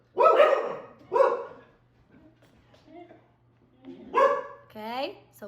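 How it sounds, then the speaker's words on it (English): Dogs bark in a few loud, close bursts with quieter whimpering yips between, and someone speaks over them at times indoors. "Sorry, the dogs are barking."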